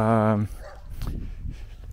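A dog lets out a short, sharp bark in a small Lithuanian town, followed by muffled rustling and background noise.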